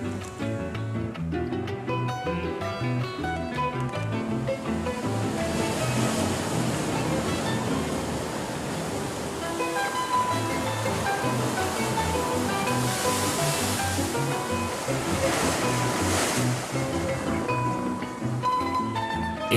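Sea waves surging into natural sea-bath pools among black lava rock in the Canary Islands, a steady full-bodied wash of surf with swelling splashes, close and continuous throughout.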